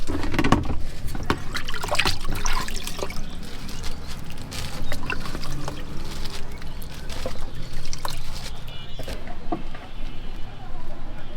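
Sour tamarind water is poured over chotpoti at a street stall, with trickling, splashing liquid and clinks amid busy background chatter and voices.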